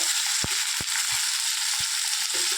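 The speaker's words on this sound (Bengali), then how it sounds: "এবার তোমরা দিয়ে দিচ্ছ পেঁয়াজ আর টমেটো কুচি" Chopped onion and tomato frying in hot oil with bay leaf, giving a steady bright sizzle throughout, with a few dull knocks of a spatula against the pan.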